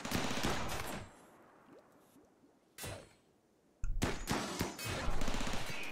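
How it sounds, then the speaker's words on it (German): Gunfire in the video game Rimworld, bursts of rapid crackling shots that start loud, drop to quiet, then return in sharp volleys, with no talking. "die schießen auf den"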